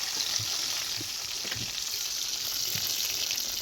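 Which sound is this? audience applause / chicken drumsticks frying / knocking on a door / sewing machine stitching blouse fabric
chicken drumsticks frying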